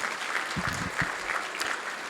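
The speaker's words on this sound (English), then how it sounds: "So give them a round of applause." A crowd at a Santa Barbara South Coast Chamber of Commerce State of the City event claps in steady, moderately loud applause that fills the room throughout.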